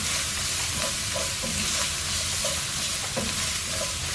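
Shallots sizzling in an oven-safe pan, a constant loud hiss with faint periodic clinks and shuffles from stirring, close up and without talk.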